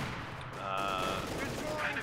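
Gunfire and Panzer IV tank shots in Company of Heroes 2, steady clustered battle noise with a bright whine running underneath, while a voice talks over the action throughout.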